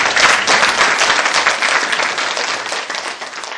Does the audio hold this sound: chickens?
no